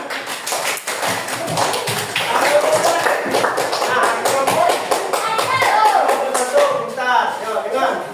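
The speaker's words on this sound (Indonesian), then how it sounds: "Tepuk tangan." A primary school class claps hands together in a classroom, a busy run of close, scattered claps and taps mixed with children's chatter and voices.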